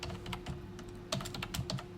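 Keyboard typing during work on a PowerPoint presentation: a rapid run of close, crisp key taps with bursts of quicker strokes in the second half, no voices.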